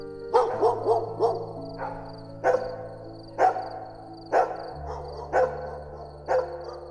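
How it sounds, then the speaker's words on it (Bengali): Dogs bark at night in a quiet village, sharp barks repeating about once a second, loud and near, while drawn-out howling tones hang underneath. "হঠাৎ করে কুকুরগুলো চিল্লানো শুরু করলো"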